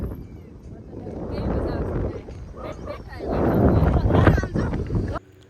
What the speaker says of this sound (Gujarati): મસ્ત એકદમ જોરદાર પવન